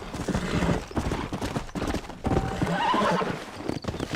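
Horses in a rural Wild West–style video game gallop with rapid clip-clop hoofbeats and let out loud neighs and whinnies, all close and busy over a cluttered game soundscape.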